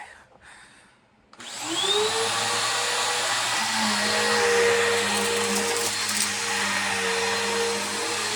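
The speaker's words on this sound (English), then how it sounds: "What a good vacuum." After a quiet start, an upright vacuum cleaner switches on and runs with a steady loud whine and hum that holds without a break.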